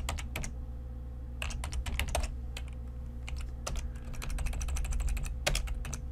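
Rapid clattering keystrokes on a computer keyboard while VBA code is typed, close and crisp in uneven bursts over a steady low electrical hum.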